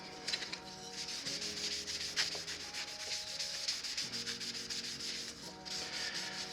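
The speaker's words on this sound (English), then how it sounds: "So we're just gonna wipe that right on the coaster." A cloth wipes medium walnut Watco Danish oil onto a wooden coaster, giving soft, close rubbing strokes in repeated back-and-forth bursts. Quiet and steady, with no talk.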